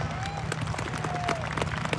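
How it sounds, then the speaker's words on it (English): Scattered clapping from a crowd at a junior market steer show in an arena, moderate and uneven, with distinct hand claps over a steady low hum and a faint whistle-like tone. "I think we should give her a round of applause"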